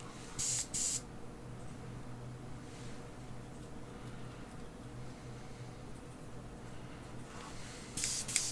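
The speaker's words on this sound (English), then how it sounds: "So, airbrush on its low setting." Airbrush on a low setting sprays paint onto a miniature as a soft, steady hiss, with a couple of brief louder bursts of air at the start and end.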